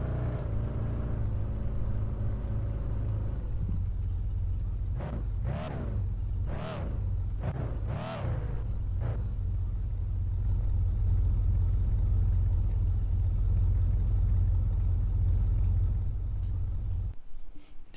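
A car's engine idles in the Car For Sale video game, a steady low rumble that runs throughout, with a few brief swelling tones over it midway and a sudden cutoff at the very end.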